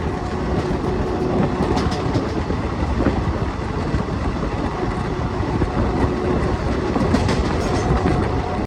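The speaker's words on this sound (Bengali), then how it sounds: "আমরা এখন এসে পৌঁছালাম বিহার রাজ্যের একটা খুব গুরুত্বপূর্ণ রেলওয়ে স্টেশন, সেটা হচ্ছে সিওয়ান জংশন" A train stands at Siwan Junction railway station in Bihar, a loud, continuous rumble with rhythmic clickety-clack of wheels on rails filling the whole stretch, close by and without talk.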